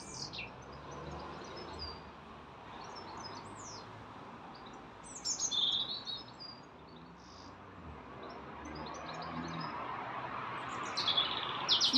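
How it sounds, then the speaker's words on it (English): Birds chirp and sing in a garden with scattered, bright calls over a soft bed of insect trilling. Distant traffic hums underneath. "Listen to these gorgeous birds."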